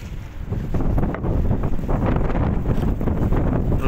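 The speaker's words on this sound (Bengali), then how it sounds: "প্রচুর হাওয়া দিচ্ছে" Strong morning wind after rain buffets a phone microphone in continuous loud, rough rumbling gusts that fill the whole stretch, with no other sound standing out.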